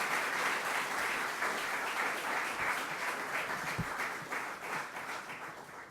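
Audience applause fills a French-language broadcast event on motivation as a presenter is welcomed: steady, dense clapping from a crowd, loud and sustained, thinning slightly toward the end.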